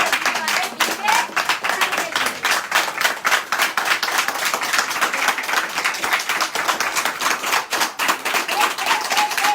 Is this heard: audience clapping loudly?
yes